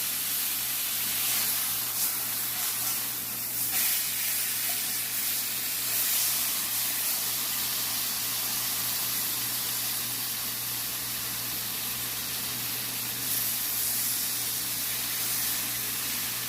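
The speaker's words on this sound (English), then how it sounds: "I'm just going to sear the sides of it." Pork tenderloin searing in a hot skillet gives a continuous loud, even hiss with a low steady hum beneath, holding almost unchanged throughout with no voices.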